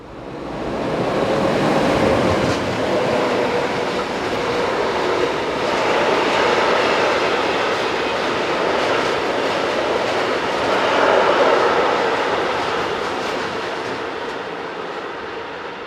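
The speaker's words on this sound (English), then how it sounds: "This time it's heading south once more with a train of bogie hoppers." A heavy freight train of bogie hopper wagons rumbles past nearby, a continuous loud roar with rhythmic clatter of wagons, swelling and fading slightly over the length of the passage.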